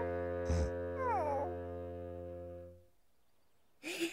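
A cartoon dog gives a soft, high whimper with a short yip, set over a sustained musical tone that fades out before a brief louder sound at the end.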